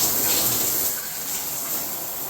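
Water rushes steadily through newly installed household plumbing, a loud continuous hiss and gush that eases slightly partway through, heard up close with no talk.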